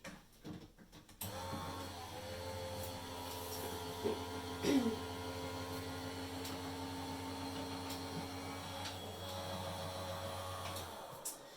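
A papercraft embossing machine runs with an embossing folder fed through, a steady motorized hum with a low drone and faint clicks and creaks along the way, close and constant for several seconds before stopping, with no talking.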